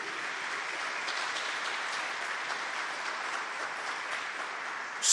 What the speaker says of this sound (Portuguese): Pode aplaudir, pura, pura.